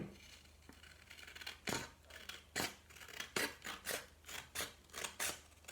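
Scissors snip a thin strip of yellow paper for a craft, about a dozen crisp cuts in an uneven rhythm, close and clear in a quiet room.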